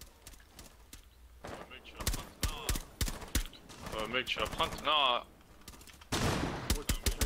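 Gunfire bursts in a Rainbow Six video game come in sharp clusters, loud and close, while excited players talk and shout over them.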